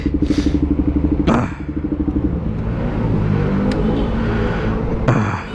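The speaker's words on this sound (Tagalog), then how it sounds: "Napapansin nyo medyo iba yung tunog ng motor natin ngayon." A KTM RC200 motorcycle with an aftermarket SC Project exhaust idles with a choppy, popping exhaust pulse, then revs up briefly a couple of times, close by.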